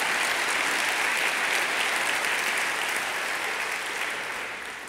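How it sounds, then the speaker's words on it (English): A crowd at the 2015 Long Beach State of the City address gives a loud, steady round of applause that tapers off slightly toward the end. "Round of applause for hirelb.com."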